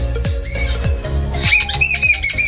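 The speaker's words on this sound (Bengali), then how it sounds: "আচ্ছা, পাখিগুলো ডাকাডাকি করছে" Jungle babblers squawk and call loudly and close by, a busy overlapping run of harsh cries with no pause.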